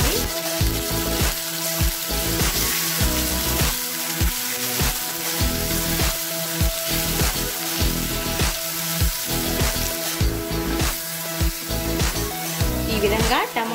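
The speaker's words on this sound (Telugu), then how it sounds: "ఈ విధంగా టమాటోలు బాగా మెత్తబడే వరకు మనము ఇలా ఫ్రై చేసుకుంటూ ఉండాలి." Chopped tomatoes frying in hot oil in a pan, a steady dense sizzle with clattering stirring knocks throughout, close up, with a voice talking over it.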